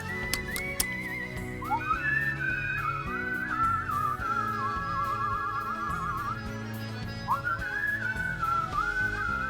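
Someone attempts to whistle over background music from the Boku no Natsuyasumi 2 game, producing a wavering, sustained tone that breaks off and returns a few times.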